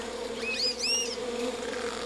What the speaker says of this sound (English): And just to make him suffer more, let's give him some bees.